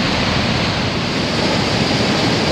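Rebecca Falls on the Moose River in the Boundary Waters, where water rushes and churns as a dense, unbroken roar, loud and close, with no voices over it.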